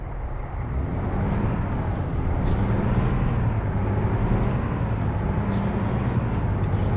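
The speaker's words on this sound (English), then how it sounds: "So it'd help if I turned the parking brake off, wouldn't it?" A loud, steady truck engine rumble in Euro Truck Simulator 2, a Freightliner Argosy, runs throughout, with repeated high hissing and whining pulses as the parking brake is released.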